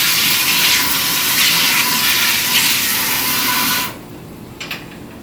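Hot tap water runs steadily into rice being washed in a kitchen while cooking rice and peas, a loud continuous splashing rush that cuts off abruptly near the end, followed by a few faint clinks.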